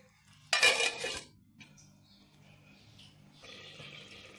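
A metal lid clanks onto a cooking pot of green pigeon pea curry, one sharp clatter followed by quieter rattles and a faint hiss, close and alone.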